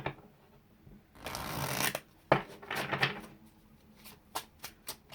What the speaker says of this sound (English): Let me give the deck another shuffle here.